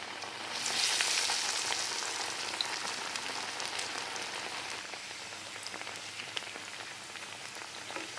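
Drumstick leaf vadas fry in hot oil over a medium flame, giving a steady, dense sizzle and crackle that swells early and then holds an even, close hiss throughout.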